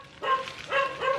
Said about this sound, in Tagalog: Hindi ako makakonsentrate dahil maingay yung mga aso.